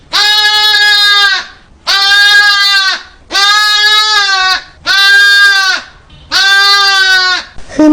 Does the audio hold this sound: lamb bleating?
yes